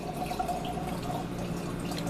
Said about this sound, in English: sorry, I gotta watch my cup fill.